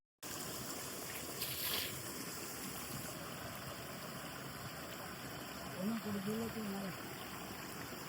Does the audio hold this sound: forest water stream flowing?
yes